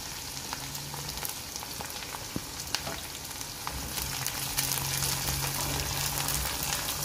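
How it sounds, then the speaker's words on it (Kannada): Garlic fries in hot oil for a tomato pickle, giving a steady, soft sizzle and crackle with occasional small pops, close and continuous throughout. "ಬೆಳ್ಳುಳ್ಳಿ ಚೆನ್ನಾಗಿ ಎಣ್ಣೆಲಿ ಫ್ರೈ ಆದರೆ ಅದ್ರ ಜೊತೆ ತುಂಬ ಚೆನ್ನಾಗಿರುತ್ತೆ ಟೊಮೆಟೊ ಉಪ್ಪಿನಕಾಯಿ."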